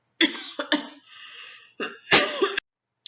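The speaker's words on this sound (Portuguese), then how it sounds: "me deu uma crise de tosse" A fit of several harsh, close coughs in quick bursts, with a raspy throat-clearing sound between them.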